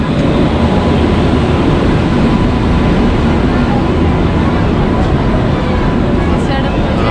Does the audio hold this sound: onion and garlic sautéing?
no